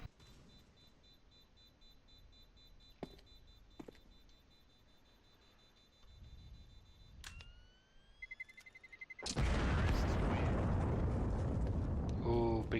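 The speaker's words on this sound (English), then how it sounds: "Ooh, big explosion. Sounds very cool." A big video-game explosion erupts suddenly as a loud, sustained roaring blast that swamps the scene, following quieter in-game clicks, shots and movement sounds.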